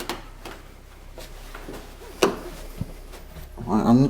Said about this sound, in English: Not sure what door it is though.